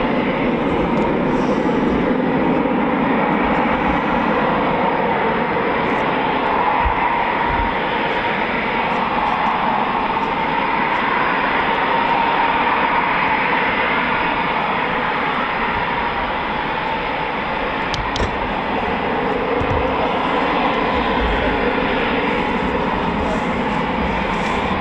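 A Eurofighter Typhoon FGR4 jet at RAF Coningsby during night flying produces a continuous loud roar and whine of jet engines, steady throughout with voices faintly talking beneath.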